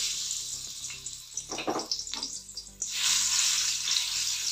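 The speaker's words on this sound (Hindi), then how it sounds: "लहसुन को हम अच्छी तरह भून लेंगे।" Garlic dropped into heated oil on a stovetop sizzles steadily, with a stirring burst partway through, then swells into a louder, continuous hiss near the end.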